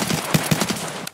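Gunfire in the shooter game Escape from Tarkov: a rapid burst of several loud, closely spaced shots over about a second, sharp and near, with no talk over it.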